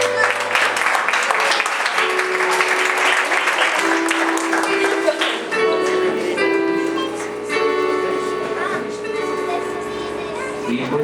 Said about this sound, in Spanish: lo despedimos con fuertes aplausos